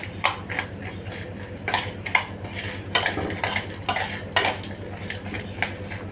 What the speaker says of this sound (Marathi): हे सगळं आपण छानपैकी मिक्स करूया